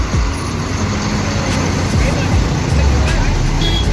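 A travel coach from a private bus line waits at a roadside stop, its engine rumbling loudly and steadily amid traffic noise and a background murmur of voices.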